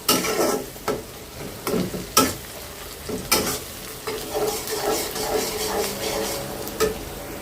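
Egg bhuna frying in a pan, a continuous sizzle punctuated by sharp scrapes and clacks of a spatula stirring at irregular intervals, close and moderately loud with no talking.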